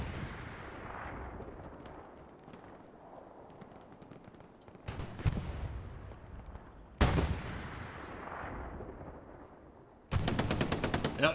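Machine gun fire in the video game Hell Let Loose on Omaha Beach, with bursts and booming distant battle noise building up, sharp loud shots near the middle and a rapid close volley at the end.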